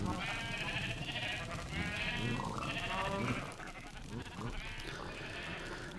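Sheep bleating in the video game Minecraft, several wavering bleats repeating over a few seconds, fairly quiet.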